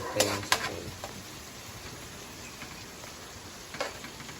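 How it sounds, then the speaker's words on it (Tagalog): Onions and spices fry in melting butter in a pan, giving a steady soft sizzle with a few sharp clinks of a utensil against the pan near the start and end. "Para habang nagpapainit ng butter, lumalabas na rin yung katas ng sibuyas."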